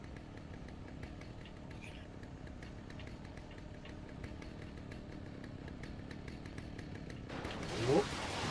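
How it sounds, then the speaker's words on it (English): A chainsaw in Alan Wake buzzes with a steady, faint engine rasp and regular pulsing throughout, swelling briefly louder near the end, with a voice talking over it. "That sounded like a chainsaw."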